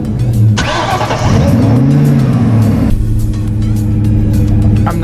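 A supercharged car engine recorded from inside the engine bay, a loud close roar with a whining pitch that rises and falls during a rev before settling back to a steady drone, with no speech.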